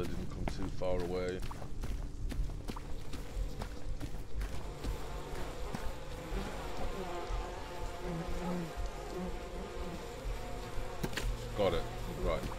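Bees buzz steadily in the video game We Happy Few, a continuous insect drone under someone talking throughout.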